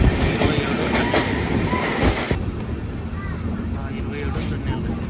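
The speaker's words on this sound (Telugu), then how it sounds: "ఇంకా ట్రైన్ దాంట్లో ఆగిపోతున్నట్టుంది" The Kirandul passenger train from Vizag to Araku rolls on near a tunnel with a loud, continuous rumble and rhythmic wheel clatter heard from onboard, under a speaking voice.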